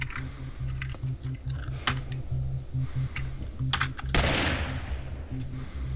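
M1A rifle fire in the survival game Cataclysm: Dark Days Ahead, a single sharp loud crack with a brief decaying tail near the end, preceded by soft clicks over a low steady hum.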